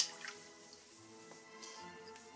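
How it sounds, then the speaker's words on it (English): Water trickles and drips faintly as a knife blade is rinsed off during sharpening on a Nakayama asagi stone, soft and steady with small splashes. "I rinse that blade off"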